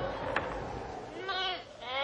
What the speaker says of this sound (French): Une trentaine de moutons,